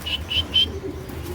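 A male Dhamasil cream bar pigeon makes three short, soft calls in quick succession, close by, over a steady low hum of background noise.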